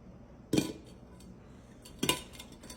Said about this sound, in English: we're going to flip it over and pat it down onto this plate